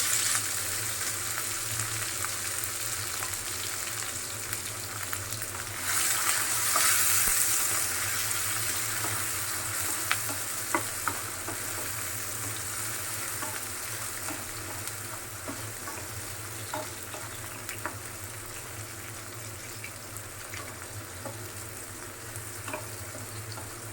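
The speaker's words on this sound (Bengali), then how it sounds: "মরিচ পেঁয়াজ আর টমেটোটা হালকা একটু ভাজা হোক" Steady sizzling of onion, tomato and chili frying in a pan, a continuous close hiss with occasional small clicks of stirring, no voices.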